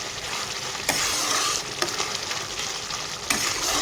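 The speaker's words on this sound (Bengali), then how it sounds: "মশলাটাকে আমি সুন্দর করে কষিয়ে নেব" Spice masala with Kashmiri chili powder sautéing in a pan, a loud, steady close sizzle broken by a few sharp stirring scrapes.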